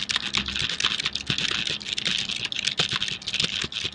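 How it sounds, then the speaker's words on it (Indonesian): Rapid, steady keystrokes clatter on a computer keyboard up close, a dense stream of clicks throughout. "kita coba ketik di sini"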